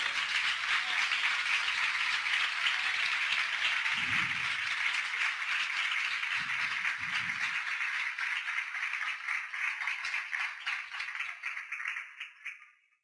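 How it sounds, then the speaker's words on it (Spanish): A church congregation applauds the Lord during an evening service, a broad, steady wash of many hands clapping that carries on for several seconds before tapering off at the end. "Denle un aplauso al Señor en esta noche."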